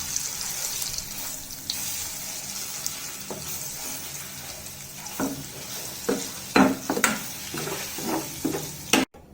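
Eggs frying in two to three spoons of hot oil in a kadai for Karnataka-style egg curry: a steady close sizzle with occasional sharp scrapes and clinks of a stirring utensil, and no talking.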